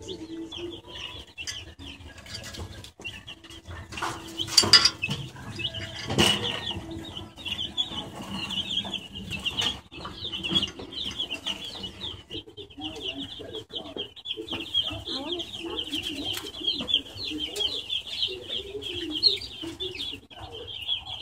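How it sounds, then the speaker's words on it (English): Young chicks and ducklings peep, chirp and cluck in a crowded ranch store pen in Nevada, a steady cluster of close birdcalls over a faint background hum. "There's some ducks."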